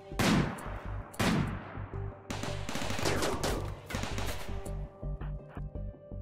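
A final battle in the game RimWorld: Royalty brings bursts of gunfire. Two heavy booming shots come first, then sustained rapid firing with crackling volleys that thin to scattered shots.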